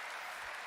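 Brief burst of audience applause during a Gamescom live stream, steady and dense for under a second with no voices over it.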